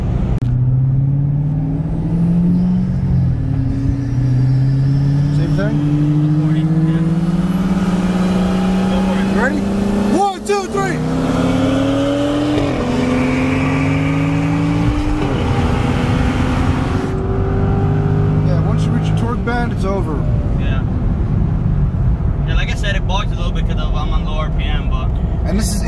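Corvette C6 with LS3 V8 and BMW 335i, both with bolt-on mods, accelerating hard through gear shifts, engine tones rising and dropping repeatedly, loud and close, with voices talking over it.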